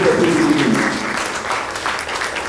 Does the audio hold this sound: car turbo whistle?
no